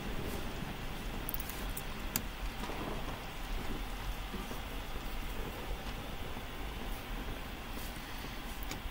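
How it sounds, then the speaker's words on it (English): Steady rain falls through a dark scene in the video game Bendy and the Dark Revival, a dense continuous hiss with a low rumbling bed of distant thunder underneath. "Thunder, eh? Really setting the mood"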